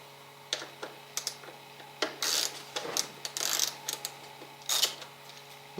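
Battery bracket bolts on a Suzuki DR650 are loosened with a tool, giving a string of light clicks, ratcheting taps and small metallic clatters at close range, some brief louder rattles among the quieter ticks.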